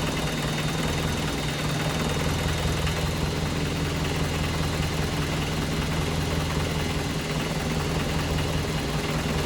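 A freshly rebuilt engine on its first start runs steadily with heavy vibration, a loud, close, continuous low drone with a rough knocking texture and no talk over it.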